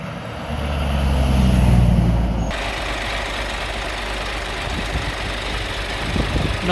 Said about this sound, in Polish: Nowy 500-konny silnik Scanii,